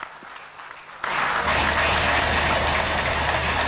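An audience bursts into loud, sustained applause at a ceremony welcoming President Félix Tshisekedi, the clapping starting abruptly after a quieter moment and holding steady to the end.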